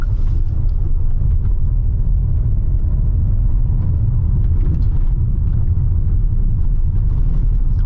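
Hyundai Palisade driving over a washboard gravel road, a loud steady low rumble of tires and chassis with constant fine rattling throughout, heard from inside the vehicle with no talking.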